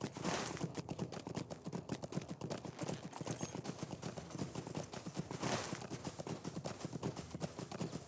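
Rapid, continuous clip-clop of horse hooves galloping at a steady rhythm in Lord of the Rings Online, close and fairly quiet, with a brief whoosh of wind partway through.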